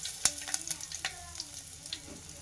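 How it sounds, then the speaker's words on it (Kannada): Garlic, curry leaves and mustard seeds crackle in hot oil for a tempering, giving faint, scattered pops and a soft sizzle, close but quiet, with no talking. "ಇವಾಗ ಒಗ್ಗರಣೆಗೆ ಬರೀ ಬೆಳ್ಳುಳ್ಳಿ ಮತ್ತು ಇದನ್ನು ಮಾತ್ರ ಹಾಕ್ತಾಯಿದ್ದೀನಿ, ಕರಿಬೇವಿನ ಸೊಪ್ಪು, ಸಾಸಿವೆ, ಎಣ್ಣೆ ಅಷ್ಟೇ"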